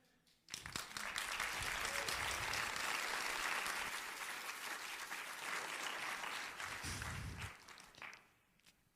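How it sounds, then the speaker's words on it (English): A church congregation applauds in a full, sustained wave of clapping that starts abruptly, holds steady for several seconds, then thins out and fades. "Take that applause for yourself right now."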